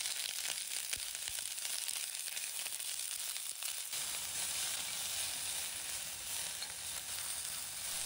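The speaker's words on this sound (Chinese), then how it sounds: "倒入食用油，把洋葱放入砂锅中，把它炒香，炒出香味。" Onion stir-frying in oil in a heated clay pot gives a soft, continuous sizzling hiss that stays faint and even, with a slight shift in texture midway.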